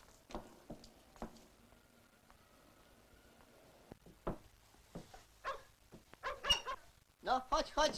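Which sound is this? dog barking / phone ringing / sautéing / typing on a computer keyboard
dog barking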